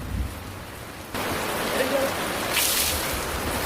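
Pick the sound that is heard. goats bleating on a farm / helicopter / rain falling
rain falling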